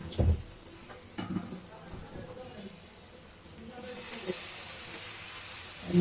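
Chapri pitha batter sizzles softly in a pan of hot oil, a faint continuous hiss with occasional stirring clinks and scrapes, the frying growing a little louder toward the end.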